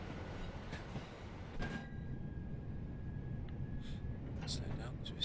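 In Train Sim World 3, a train on the Birmingham Cross City Line rumbles along steadily, with a faint whine and a few brief clicks and bumps. A voice talks over the running noise.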